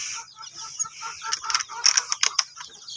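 Chickens on a chicken farm in the Philippines, with scattered clucks and short calls among a mixed flock, some sharp bursts rising near the end over a low background.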